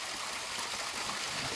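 Rainwater runs down a wet dirt road in the countryside at night, a steady bright trickling and gurgling flow under light rain, even and unbroken.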